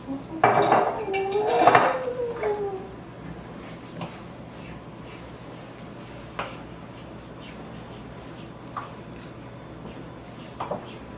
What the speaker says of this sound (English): So you want to take the big spoon, once you get that all in there, and mix all those ingredients together.